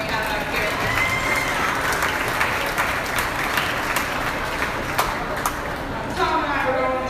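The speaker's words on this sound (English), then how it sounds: "Let's give a round of applause for these showmen that we have out here." An outdoor goat show audience gives sustained, steady applause for the young showmen, with someone talking over the crowd and a few sharp claps standing out.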